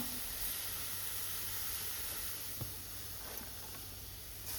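Chopped taro leaves hitting a hot pan with onion and green chillies, a soft continuous sizzle and hiss, faint and steady, with a small clink partway through and no voices.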